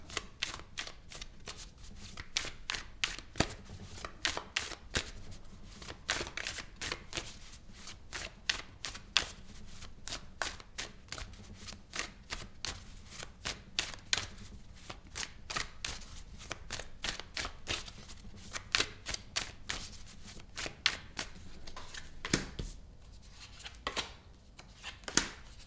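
Tarot cards being shuffled by hand for a reading: quick, crisp riffles and soft slaps repeat in a steady rhythm, close and fairly quiet, with no talking.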